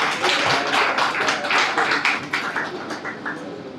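Clapping at a film production house and song launch event, a crowd applauding with distinct individual claps forming an uneven patter that gradually thins and softens toward the end.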